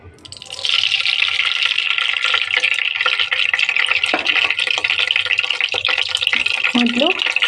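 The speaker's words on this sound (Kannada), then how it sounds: "ಇವಾಗ ಪ್ಯಾನ್ ಇಟ್ಕೊಂಡು ಆಯಿಲ್ನ ಸೇರಿಸ್ಕೊತಾ ಇದ್ದೀನಿ." Oil goes into a cooking pan that still holds a little water, setting off a loud, steady sizzling hiss that starts abruptly and carries on without a break, with brief faint voice sounds near the end.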